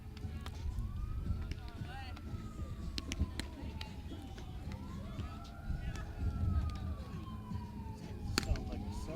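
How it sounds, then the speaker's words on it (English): Several emergency vehicle sirens wail and overlap at a distance, rising and falling, with people talking and background noise throughout at a high school softball game. "Something's going on if they have more than one siren."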